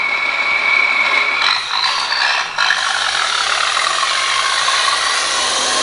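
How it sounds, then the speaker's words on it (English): A radio-controlled International dump truck's simulated engine sound rises as throttle is applied, a steady mechanical whine and rattle climbing in pitch, loud and close with a brief dip before revving on evenly. "increase the throttle as the sound revs up"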